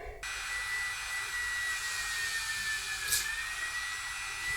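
A small drill bores a 1.5 millimeter hole for wire during a bicycle rebuild, giving a steady high whine close by that stays even for several seconds.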